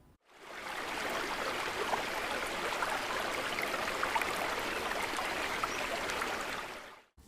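A recorded river flows steadily and fairly loudly as a continuous broadband rush of running water, fading in and out at the ends, with no voices.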